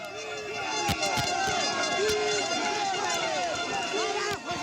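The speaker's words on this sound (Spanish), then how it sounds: "Los manifestantes lograron romper el cerco policial y corrieron hasta el Congreso Nacional en Lima." A crowd of protesters in Lima runs toward the National Congress after breaking a police line, with a rush of many footsteps while voices shout and call out over one another.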